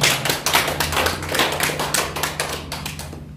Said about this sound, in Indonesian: Mari kita tepuk tangan sesudah